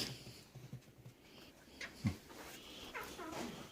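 A Great Pyrenees dog whimpering and whining in short, soft bursts, fairly quiet and close, with a few small yips among faint background noise.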